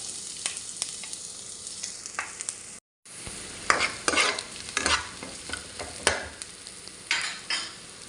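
Onion sautéing in hot oil for a ground beef vegetable stir-fry: a constant sizzle punctuated by repeated scraping and clanking spatula strokes, with a brief dropout partway through and louder stirring afterward.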